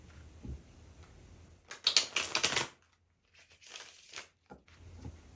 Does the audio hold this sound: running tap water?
no